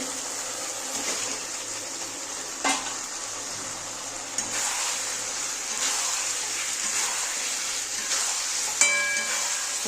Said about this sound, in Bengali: এবার আমি ডিম আর আলুকে একবারেই দিয়ে দেবো, একবারে কষিয়ে নিব